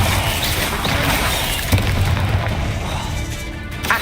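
Confringo blasting spell going off in Hogwarts Legacy, a steady rumbling burst with a sharper thump midway, dense low booms continuing throughout at close range.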